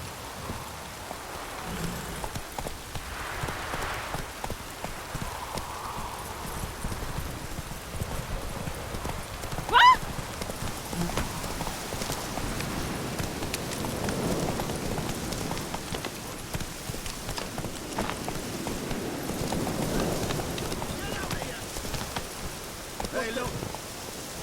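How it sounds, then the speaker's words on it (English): Steady downpour in The Witcher 3 video game patters and hisses throughout, with muffled movement and occasional voices beneath it, and a brief sharp knock near the middle. "Proper downpour this is."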